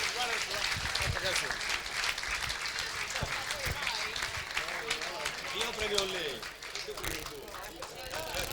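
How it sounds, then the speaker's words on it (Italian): At a Sardinian volleyball gala, the crowd gives sustained applause for the referees, a broad wash of clapping mixed with murmuring voices and some louder shouts throughout. "Un applauso per i nostri arbitri"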